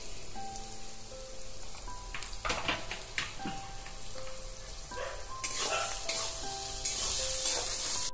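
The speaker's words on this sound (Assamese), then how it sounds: "এনেকৈ ফ্ৰাই কৰি লৈছোঁ মছলাখিনি।" Spices (masala) frying in a pan for chilli chicken curry: a crackling sizzle with stirring scrapes that grows busier toward the end, with soft melodic music underneath.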